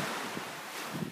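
Ocean waves on a Malaysian beach, a close, steady wash of surf with gentle low swells and wind over the microphone, no voices.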